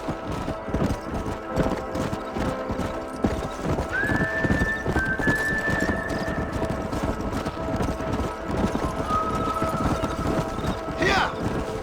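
A herd of horses galloping in Red Dead Redemption, continuous rapid hoof clip-clop with a whinny rising near the end, under game dialogue.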